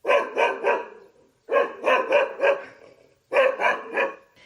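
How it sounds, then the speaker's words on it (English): A dog barking from a back room of a cabin, three separate bursts of rapid barks, two or three each, moderately loud with short pauses between, no other voices. "he heard his bark from one of the back rooms"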